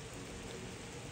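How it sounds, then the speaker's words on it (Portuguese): Steady rain falls beside a lake in Gramado, a dense, even hiss of drops that runs evenly throughout with no voices. "Olha só, deixa eu fechar aqui, tá chovendo."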